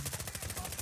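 Rapid automatic gunfire from a Call of Duty match, a steady burst of evenly spaced shots that runs through the whole short moment at moderate loudness.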